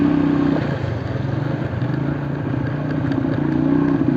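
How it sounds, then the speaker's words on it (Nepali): A motorbike rides along the road between Butwal and Khaireni, its engine droning in a steady, loud, continuous rumble close to the listener with no talk. "बाइक स्टार्ट गरेर गएँ"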